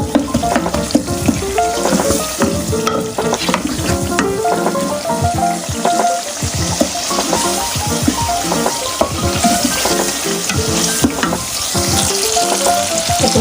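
Green chillies, some chopped and some whole, fry with masala in a hot pan, a loud, constant crackling sizzle with frequent sharp pops and spatters and occasional stirring scrapes.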